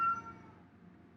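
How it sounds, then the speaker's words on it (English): A domestic cat lets out a single short meow at the start, fairly quiet and indoors, fading into faint room noise afterward. "Sorry, my cat."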